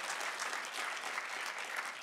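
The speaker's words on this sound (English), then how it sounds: "How about another round of applause for great distinguished service" Audience at a US–China relations and film industry dinner applauds Jim Sasser's distinguished ambassadorial service, a dense, even wash of clapping from many hands held steady throughout.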